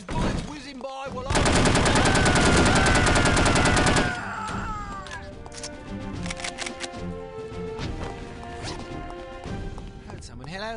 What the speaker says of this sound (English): All these bullets whizzing by